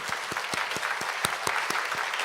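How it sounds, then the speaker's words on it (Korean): A church congregation at a worship service applauding together, a dense, steady patter of many hands clapping at close range with no voices over it. "저희들 다시 한번 인사할 때 박수로 하겠습니다"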